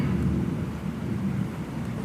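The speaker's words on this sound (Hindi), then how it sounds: "बारिश बढ़ती जा रही है।" Heavy rain with thunder, a dense steady roar of downpour with low rumbling underneath, loud and continuous without any speech.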